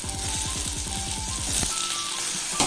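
Chopped onions and tomatoes frying in oil with bay leaf for a winter cabbage curry, a steady close sizzle with rhythmic stirring scrapes through the first part, then a softer continuous hiss.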